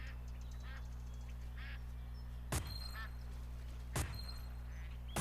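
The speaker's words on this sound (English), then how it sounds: "Calling a mallard." Mallard duck calls in the Duck Dynasty PS4 hunting game: a few soft quacks over a constant low hum, broken by two sharp, loud bangs.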